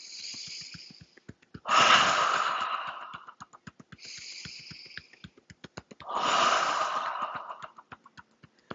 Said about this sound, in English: We'll inhale through the nose and exhale through the mouth.